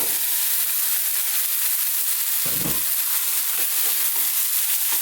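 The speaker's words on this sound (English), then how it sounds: "Just as we're getting a bit of colour on our onions and our garlic and ginger, we're going to introduce our dal, our cooked dal." Onions, garlic and ginger frying in oil as cooked black urad dal goes into the pan, a continuous loud sizzle and hiss with a brief low thump and stirring noises near the middle.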